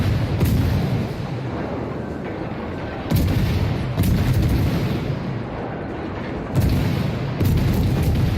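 Rapid-fire ship guns in the World of Warships naval game boom in loud, heavy salvos, each burst followed by a rumbling decay, repeating every second or few seconds.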